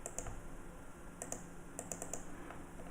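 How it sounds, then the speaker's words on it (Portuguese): Code being typed on a computer keyboard, with rapid clusters of light key clicks in short bursts over a low steady room hum, close and fairly quiet. "Vou digitar aqui o código para importar o constraint layout."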